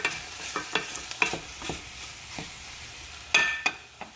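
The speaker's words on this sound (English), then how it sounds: "Get that all in the pot. Get that fat rendering down." Meat fat renders in a pot seasoned with coarse salt and pepper, a soft steady sizzle broken by scattered stirring scrapes and clinks, with a sharper clatter near the end.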